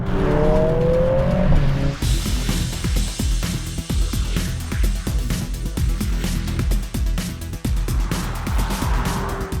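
A 2020 Mercedes-AMG A45 S hot hatch driven hard, engine revving up through rapid gearshifts with sharp crackles and pops, loud and close, with a rising whine at the start and a tire squeal near the end.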